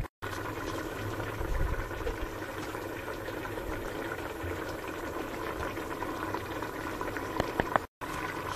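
Pineapple chicken sauce bubbling at a steady boil in a pan, a dense continuous burble of popping bubbles at close range with no voices.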